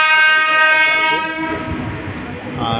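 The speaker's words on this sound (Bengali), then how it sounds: "আর এই যে গাড়িটা শিয়ালদার দিকে চলছে" A passenger train heads toward Sealdah near a metro station, its horn sounding loud and steady at first, then giving way to rumbling, clattering wheels as the carriages pass close by.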